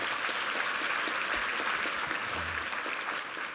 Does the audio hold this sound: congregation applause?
yes